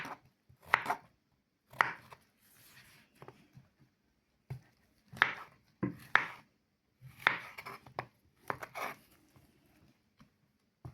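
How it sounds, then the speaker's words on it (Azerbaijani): A knife chops mushrooms finely on a board for a mushroom and cauliflower dish, giving bursts of quick close knocks with short pauses between them. "Çox nazik doğramaq lazımdır."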